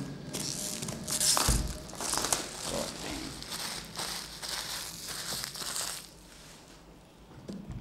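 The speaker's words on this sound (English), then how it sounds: "It's wrapped in this cling film again, similar to the Logitech" Cling film being pulled and crinkled off a boxed pair of Focal Spirit Professional headphones, a steady close crackling rustle that runs for several seconds with a sharper burst early on, no talk.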